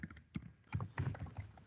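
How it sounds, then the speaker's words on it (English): Quick keystrokes tap on a computer keyboard in an irregular burst of close clicks lasting under two seconds, with no talk. "I'm typing, estoy escribiendo en el chat"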